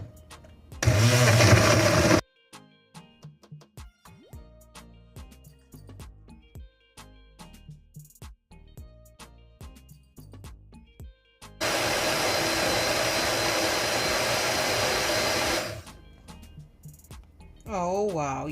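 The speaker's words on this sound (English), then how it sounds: "Just cover and blend away." A kitchen blender whirs loudly through sea moss, mango, papaya and a spoon of honey in two continuous bursts, one short and one longer, separated by clicks and handling sounds.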